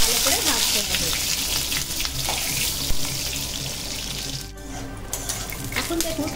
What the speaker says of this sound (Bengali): এরপর আমি প্রথমেই দিয়ে দেবো পটলগুলো, পটলগুলো একটু ভালো করে ভাজতে হবে।